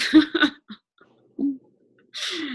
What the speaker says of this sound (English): It's this cough.